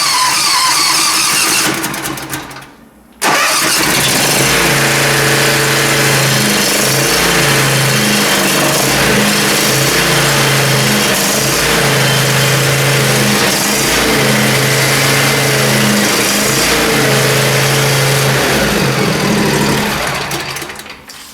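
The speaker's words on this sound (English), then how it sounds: "It's gonna be noisy, so here we'll give her a shot here. It's full throttle." A motor vehicle engine held at full throttle roars loud and steady after a brief cut near the start, a sustained high-rev drone with no voices over it.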